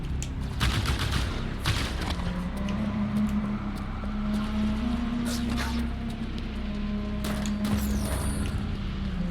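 Plasma turret in Halo 5 firing steadily amid mechanical clanks, with game audio and effects layered over a continuous low hum, loud and close.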